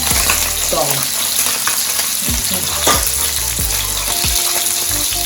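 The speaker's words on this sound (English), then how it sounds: "Saute them and then get out the flavor." Escovich pickle vegetables sauté in a hot pan with a loud, close sizzle and frying hiss, broken by repeated scraping stirs of a utensil against the pan.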